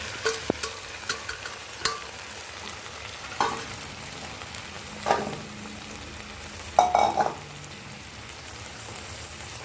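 Washed masoor lentils hit hot spiced masala in a pan for a fish and lentil curry, giving a steady close sizzle with a few louder clatters and stirring scrapes.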